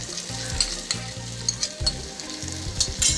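Chicken fries in a pan with ginger-garlic paste, a steady close sizzle broken by intermittent stirring scrapes and clacks, with no voices.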